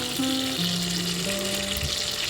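Katla fish fries lightly in hot oil, a continuous steady sizzle at close range with some soft tonal hum running underneath.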